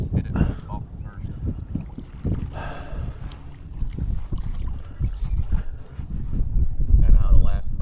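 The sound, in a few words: wind on the water while fishing from a boat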